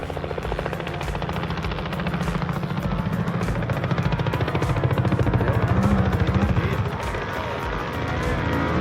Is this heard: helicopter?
yes